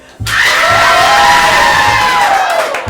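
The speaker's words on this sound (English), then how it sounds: "whoever you like the most, go ahead and clap and cheer for them" A crowd at a hip hop dance showcase erupts in loud, sustained cheering and screaming for a dancer, packed close and continuous for a couple of seconds before easing off.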